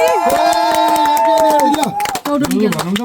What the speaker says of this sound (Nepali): यतिखेर चाहिँ ताली